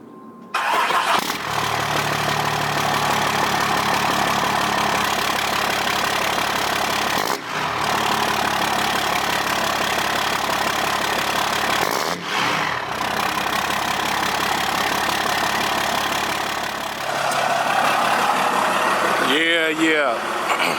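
A Dodge truck's 6.7 Cummins diesel, fitted with new Banks intercooler pipes, runs with a steady rough clatter close by, with a few brief dips and a louder burst near the end.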